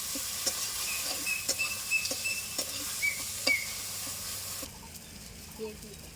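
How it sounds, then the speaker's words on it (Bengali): Spice paste fries in a pan for lau kofta curry, a constant hiss with regular clicks of a spoon stirring, fading quieter near the end. "মশলাটা ভালো করে আমি কষিয়ে নিয়েছি"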